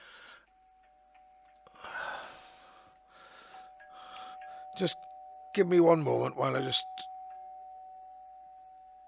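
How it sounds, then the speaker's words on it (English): A ring-style smart doorbell alert chimes on a phone mid-sentence, a short bright melodic ding-dong rising over a person's ongoing talk, followed by a steady faint tone. "I've got one of these ring style doorbells, and if somebody goes up the door it alerts my phone"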